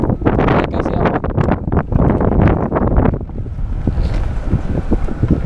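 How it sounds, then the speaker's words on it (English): Gusty outdoor wind buffets the microphone with loud, rumbling thumps that keep coming throughout. The blasts ease slightly toward the end, leaving a hissy rush. "Bit windy, guys."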